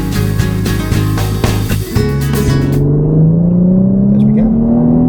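A 2025 Infiniti QX80 Autograph SUV driving, its engine note rising smoothly in pitch as it accelerates after a brief muffled stretch, loud and close.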